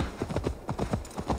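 Rhythmic hoofbeats of a skeleton demon horse in Assassin's Creed Valhalla, a brisk, evenly spaced clip-clop gallop heard close and clear with no talk over it.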